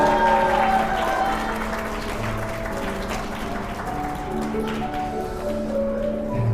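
Wedding guests applaud the ring exchange in a sustained, even round of clapping, with soft background music playing underneath throughout.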